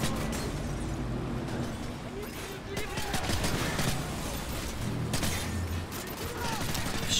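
Gunfire from Call of Duty: Modern Warfare 3 on a veteran-level Hunter Killer mission, dense and continuous shooting with sharp bursts and clatter throughout, alongside voices.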